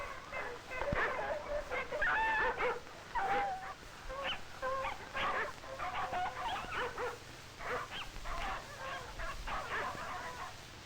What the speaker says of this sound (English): When we come to a place where the snow is soft, the dogs have difficulty hauling the sled.